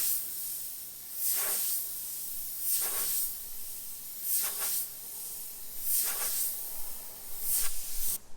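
A Sagola XTECH 300 gravity-feed airbrush blasts out paint build-up in five short, sharp bursts of hissing air, each about half a second long, spaced roughly every one and a half seconds.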